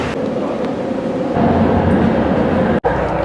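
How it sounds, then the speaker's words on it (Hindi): A metro train rolls out of Kuala Lumpur Sentral station, heard from inside as a loud, steady rumble and hum that grows slightly heavier partway through, with a brief sharp dropout near the end. "तो भाई कुआलालंपुर सेंट्रल से बाहर निकल चुकी है हमारी मेट्रो।"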